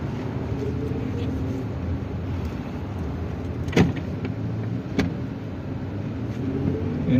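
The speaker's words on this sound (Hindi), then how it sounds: "ट्रैफिक। ओह, बहुत जाम।" Dense road traffic jam in Dubai, a steady broadband rumble of idling and creeping cars with a couple of brief louder knocks, continuous throughout.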